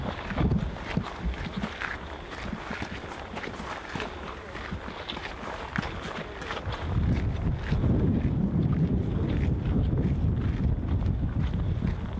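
Strong wind high on an alpine ridge above the tree line in Japan's Northern Alps, buffeting roughly and swelling louder partway through, mixed with crunching footsteps on the trail.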